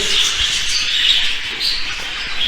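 Budgerigar chicks and parent birds in a breeding aviary give a dense, continuous high-pitched chatter of overlapping chirps and tweets, loud and close, with no voices.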